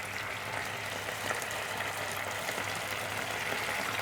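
Fish sizzling in hot oil in a pan, a steady, even crackle and hiss continuing without pause throughout, no voices over it.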